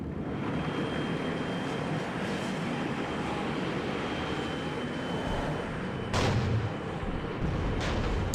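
Distant tank fire in the WARNO strategy game booms over a steady rumbling battlefield bed, with one sharper loud shot standing out near the end.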